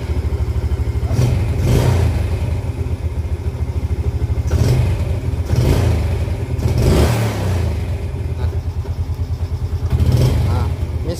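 A Jupiter Z motorcycle with a weak, stalling engine runs loud and close with a rough idle, repeatedly swelling as the throttle is blipped, while a person speaks over it.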